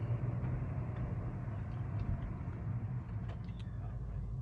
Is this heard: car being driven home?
yes